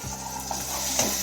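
A mutton curry mixture with tomatoes is stirred as it cooks in a pan, giving a close scrape of utensil against metal over a soft sizzle, brief and without speech.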